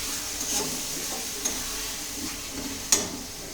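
Mutton frying in a pan as turmeric and chili powder go in, a quiet steady sizzle with a few soft scraping stirs and small sharp ticks, no voices.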